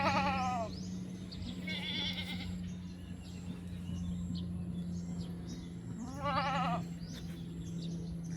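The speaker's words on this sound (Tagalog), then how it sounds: "Medyo bahagya pumayat yung kambing natin" Farm goats bleating in several wavering calls, one near the start, another around two seconds and a louder one near six seconds, over a constant low mechanical hum and faint background chatter of other animals.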